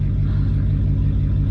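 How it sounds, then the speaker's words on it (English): A catless Dodge Challenger running with no tune gives a loud, deep, steady engine rumble close by, pulsing evenly without a clear rise in revs. "I'm out here by myself, so we might rev it a little bit."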